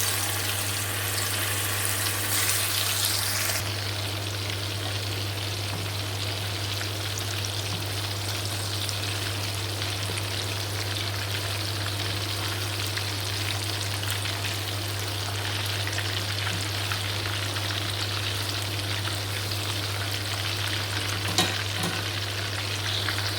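Kofta frying in hot oil in a pan, a dense continuous sizzle with occasional stirring, steady and close throughout with a low constant hum underneath and no talk.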